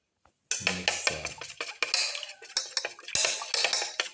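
A utensil beats egg yolks and whites together in a bowl, rapid clinking strokes against the sides that rattle on steadily and close by.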